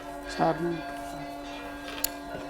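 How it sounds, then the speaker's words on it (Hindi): Temple bells, gongs and conch shells sound during the Ram Lalla Surya Tilak ceremony, with ringing metallic tones and a brief sustained horn-like note, fairly faint and distant, with a voice speaking over them. "घंटे, घड़ियाल, शंख बज रहे हैं"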